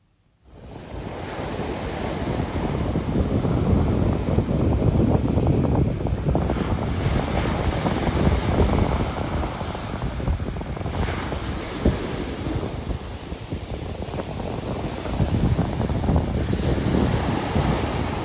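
Sea waves surge and wash continuously on Chesil Beach, a shingle shore with a lagoon behind it, with strong wind buffeting the microphone throughout; steady, loud roar with no talking.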